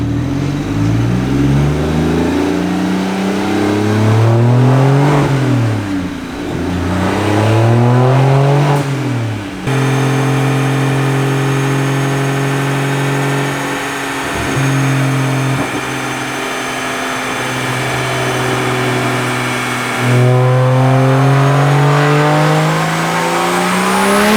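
A BMW 335i (E90) with an N54 engine and single-turbo kit revs hard and repeatedly, pitch climbing and falling in loud surges, then holds a high, droning rev close up.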